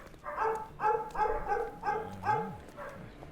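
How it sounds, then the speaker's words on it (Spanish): Dogs barking in the video game Sherlock Holmes Chapter One, a series of about six rhythmic barks at moderate distance with a whining note near the end, no talk. "los perros no paran de ladrar"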